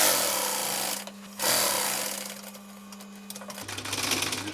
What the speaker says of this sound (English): Just sew into this actual stitch line, not over it